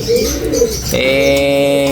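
Soft, throaty cooing of a pigeon or dove, close by and continuous, with a steady low hum in the background.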